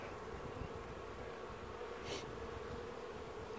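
Honey bees buzz steadily and close at hand during a beehive inspection, a dense, continuous drone with a brief louder pass from a single bee midway through.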